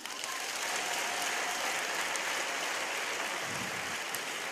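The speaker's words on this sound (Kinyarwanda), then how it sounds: "mukomera Imana amashyi" Sustained applause from a church congregation, a dense even clatter of many hands filling the whole stretch at steady loudness.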